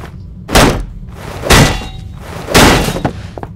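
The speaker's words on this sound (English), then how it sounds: "Destroy the railing." Three heavy thuds, about a second apart, as a railing is smashed in the video game Penumbra, each a loud, close impact with a short crunching tail.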